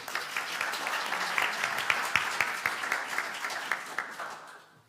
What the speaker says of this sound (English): Can we give Debbie a little round of applause, please?